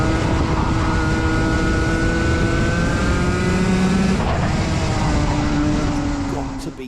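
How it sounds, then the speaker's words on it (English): Race car engine screaming at high revs around the fast Yas Marina circuit in Abu Dhabi, a loud sustained near-flat-out drone with shifting pitch that eases off at the end, a commentator talking over it. "Let's have a listen to Sam's engine revs."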